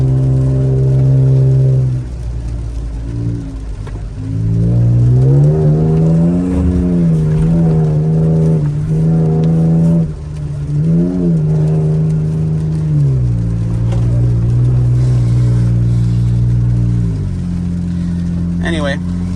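Cabin drone of a 2018 Toyota Tacoma fitted with a FlowFX cat-back exhaust, held around 3,000 RPM: a loud, steady low exhaust hum with rising and falling pitch sweeps, continuous through the whole stretch.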